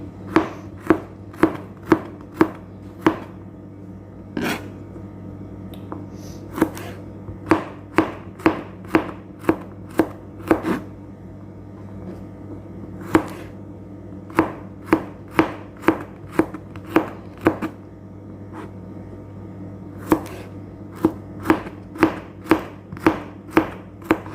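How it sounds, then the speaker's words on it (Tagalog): Garlic sliced into small pieces with a knife on a cutting board, a long run of sharp, close chopping taps in quick uneven bursts with brief pauses. "na-slice ko na maliliit yung bawang po"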